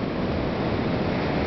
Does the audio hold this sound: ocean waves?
yes